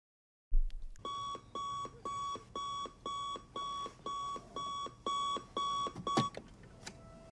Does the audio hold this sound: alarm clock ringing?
yes